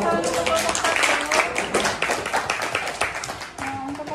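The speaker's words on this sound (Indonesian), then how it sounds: "Beri tepuk tangan untuk kelompok 1." A classroom of junior high school students applauds a presenting group, steady clapping from many hands filling the room for several seconds with scattered voices mixed in.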